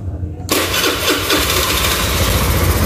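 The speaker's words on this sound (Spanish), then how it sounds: "Ahora sí la motocicleta enciende" A Honda Elite FI 125 motorcycle, its starter recently serviced, cranks after a moment of near silence, catches quickly and settles into a loud, close, steady mid-pitched idle.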